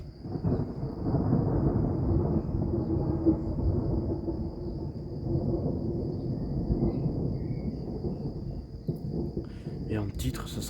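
Rolling thunder from a summer hailstorm rumbles low and sustained for several seconds after a very hot day, with a steady insect whine above and rain starting; a voice may be faintly present.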